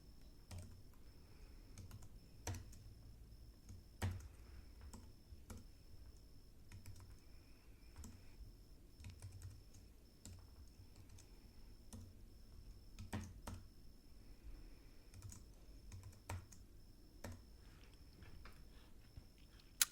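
Quiet, sparse typing on a computer keyboard as a product code is entered, with irregular bursts of key clicks and a few louder taps spread across a long, otherwise hushed stretch.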